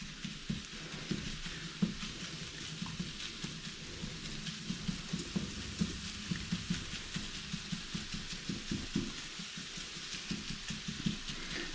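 Meat fat rendering in a pan for biscuit gravy, a steady close crackling sizzle with dense popping spatter running the whole time, no voices over it.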